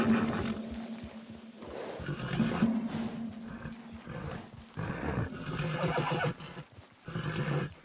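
Frightened horses whinny and snort in Red Dead Redemption as they leave a farm, with loud, close neighs in several bursts over roughly eight seconds.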